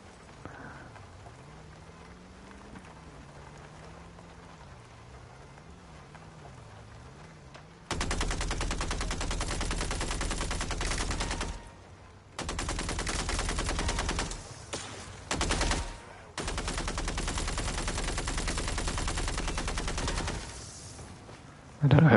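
Sustained, dense bursts of heavy gunfire in the action game MindsEye, erupting loudly after a quieter stretch of voice and hum, with a few brief pauses breaking the steady roar of shots.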